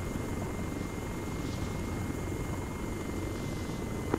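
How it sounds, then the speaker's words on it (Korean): An attack helicopter in Arma 3 drones steadily with a constant rotor rumble, moderately distant and even in level, with no other sounds over it. "공격 헬기로 추정된다."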